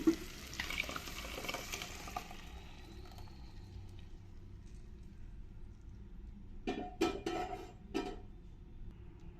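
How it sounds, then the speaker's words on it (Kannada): A soft, steady sizzle of tomatoes frying in tempering for a village-style kootu saaru, then three short sharp spoon scrapes against the pan near the end, faint and close, with no speech. "ಟೊಮೆಟೊ ಎಲ್ಲ ಸ್ವಲ್ಪ ಚೆನ್ನಾಗಿ ಮೆತ್ತಗಾಗೋವರೆಗೂ ಇದನ್ನು ಸ್ವಲ್ಪ ಫ್ರೈ ಮಾಡ್ಕೋಬೇಕು ಒಗ್ಗರಣೆಯಲ್ಲಿ"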